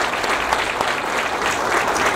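Audience applause at a medical school groundbreaking ceremony, a brief burst of dense, steady clapping from a crowd, loud and close.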